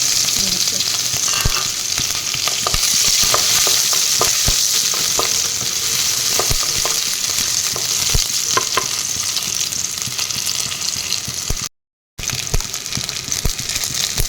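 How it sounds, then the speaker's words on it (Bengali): Onion, ginger and garlic frying in hot oil in a pan make a steady, close, hissing sizzle with faint scraping stirs throughout, briefly cutting out near the end. "মই কেৰি এইটো গৰম হ'বলৈ দি দিছোঁ তেলো দি দিছোঁ এতিয়া ইয়াতে পিঁয়াজ আৰু আদা নহৰু"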